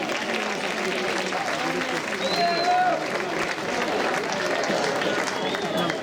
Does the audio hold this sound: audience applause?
yes